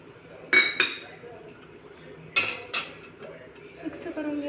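Curry masala gets stirred in a pot after food colouring is added, giving a few sharp spoon-on-metal clinks in bursts with quieter scraping between them.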